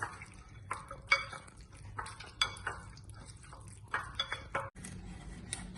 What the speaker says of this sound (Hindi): Mix nicely in all the ingredients.